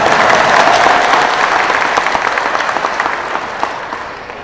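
Loud, sustained applause rolls through the crowd at a West Java PKS regional party meeting, a dense wall of clapping that gradually tapers toward the end.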